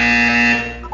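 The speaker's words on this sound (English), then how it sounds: "You will hear a buzzer. When you hear the buzzer, look up at the ceiling." A harsh, steady electronic buzzer from the game Portal 2 sounds in a single sustained tone. It is loud at first, then fades and wavers near the end, with no voices heard.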